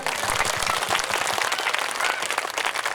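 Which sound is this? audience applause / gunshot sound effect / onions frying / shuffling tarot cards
audience applause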